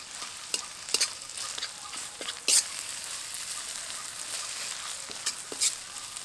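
Onion with ginger-garlic paste frying for a mutton curry gives a soft, steady sizzle, with a spoon scraping and clinking against the pan in scattered strokes throughout.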